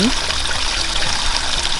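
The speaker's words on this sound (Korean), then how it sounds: "맑은 물소리를 따라가 볼게요." Clear spring water trickles steadily at Sanjeon spring on a trail along the Taehwa River, a continuous close bubbling wash with no breaks.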